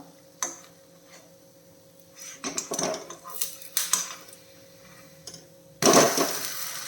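A bun dosa is flipped in a pan over a low flame: scattered quiet clinks and scrapes of a utensil on metal, building to a louder clatter near the end.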